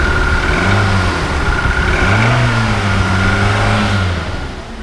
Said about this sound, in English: If I also rev the car,